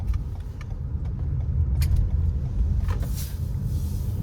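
A 2021 Toyota RAV4 Prime XSE SUV drives and turns, giving a steady low road and tire rumble with light rattles and no talking.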